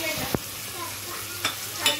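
Quiet frying of tomato, curry leaves and green chillies with prawns for a raw banana and prawn curry, a soft continuous sizzle broken by three brief scrapes of a stirring spoon.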